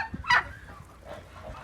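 A goose gives a short, loud honk close by, followed by softer calls, with no talking.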